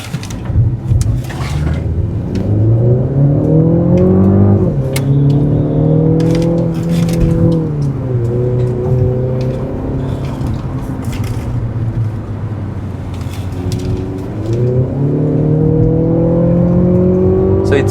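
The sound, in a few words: Mercedes C200 car engine accelerating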